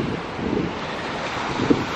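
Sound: ocean waves and wind at Tenerife coast

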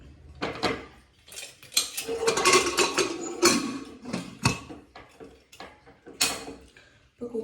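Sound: pressure cooker being handled and set to heat water

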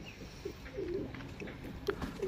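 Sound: kept birds calling

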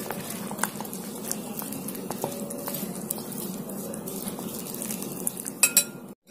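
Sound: mixing cornflour, flour and water paste in bowl

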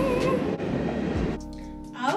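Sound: train passing by

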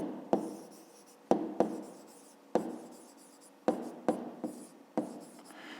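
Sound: writing out a math exercise

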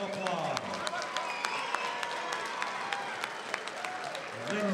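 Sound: applause for boxers after six rounds

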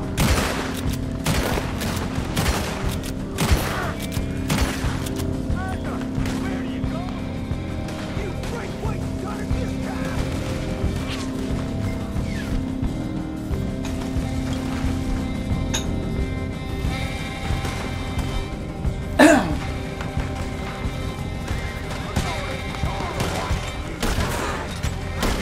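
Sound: gunfire in video game Red Dead Redemption 2

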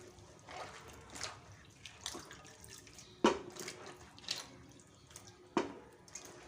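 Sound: washing okra by hand in water

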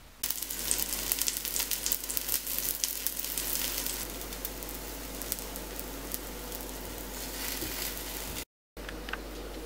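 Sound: zucchini fritters frying golden brown in fat in a pan

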